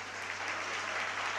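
Applause fills a council chamber during a municipal plenary session in Alcorcón, a steady, dense clapping from the public gallery that holds at an even level throughout without any voices.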